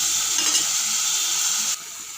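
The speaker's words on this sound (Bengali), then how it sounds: "2-4 মিনিট মতো লো ফ্লেমে কষিয়ে নিচ্ছি।" Taro pieces with a mixed spice paste sautéing on a low flame, making a steady close hiss and sizzle that drops abruptly in level near the end, with no voices.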